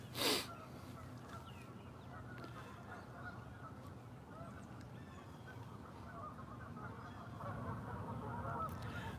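Geese honk in a noisy, continuous chorus heard from a distance outdoors, with one louder honk near the start.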